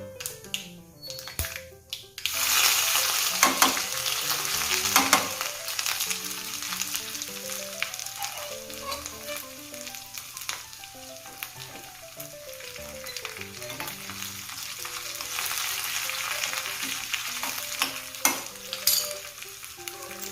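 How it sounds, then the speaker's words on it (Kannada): Mustard seeds, cumin, curry leaves and garlic sputter and crackle in hot oil for a sambar tempering, a steady close sizzle with scattered pops and stirring clinks throughout, no talking. "ಅದಕ್ಕೆ ಸಾಸಿವೆ, ಜೀರಿಗೆ, ಕರಿಬೇವು, ಬೆಳ್ಳುಳ್ಳಿ, ಶುಂಠಿ ಬೆಳ್ಳುಳ್ಳಿ ಹಾಕಿ ಇನ್ನೊಂದು ಸ್ವಲ್ಪ ಹಾಕಿ ಇದಕ್ಕೆ ಒಗ್ಗರಣೆ ಮಾಡ್ತಾ ಇದ್ದೀನಿ."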